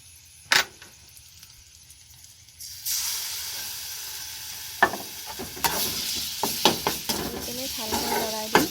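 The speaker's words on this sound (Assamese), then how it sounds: "লগতে দিম বটি লোৱা জিৰা, জ্বলা আৰু সৰিয়হখিনি।" Cumin, chilli and mustard seeds hit hot oil in a pan and a loud, close sizzle starts at once, followed by repeated scraping and clinking as they are stirred.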